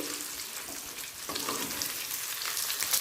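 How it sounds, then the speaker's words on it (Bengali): Bhola fish fritters fry on a medium flame, giving a continuous, fairly soft sizzle with light crackles and a few stirring sounds. "আমি মিডিয়াম ফ্লেমে মাছটাকে ভেজে নিচ্ছি"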